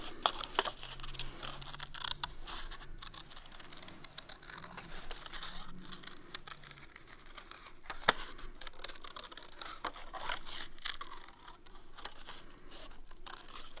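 Scissors snip paper while a shape is cut out for an origami ballerina, with a scattered run of close, crisp cuts and crinkling over about fourteen seconds, no talking.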